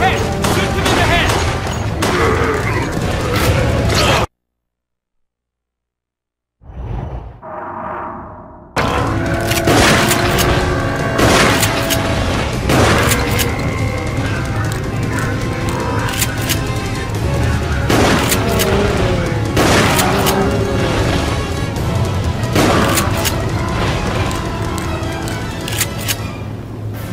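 Gunshots from Resident Evil: The Darkside Chronicles on Wii, with sharp reports repeating through dense game music and effects, broken by a brief silence near the start, loud throughout.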